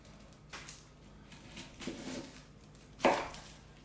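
A dull kitchen knife pressed hard through an onion on a cutting board gives a few separate chopping knocks, the last one loudest, close up with faint room noise.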